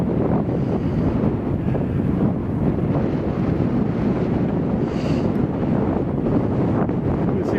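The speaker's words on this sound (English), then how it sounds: "it's a little bit windy here" Steady, loud wind roars and buffets continuously on a high mountain pass above a canyon along the Tour du Mont Blanc.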